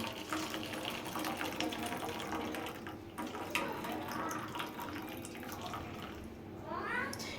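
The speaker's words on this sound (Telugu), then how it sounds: "నేను ఇప్పుడు ఈ లిక్విడ్ని కొంచెం వేరే గిన్నెలోకి అయితే వేసుకుంటున్నాను" Lemon cleaning liquid for a gas stove is poured into another bowl. The liquid trickles and splashes steadily and faintly, with a quiet room in the background.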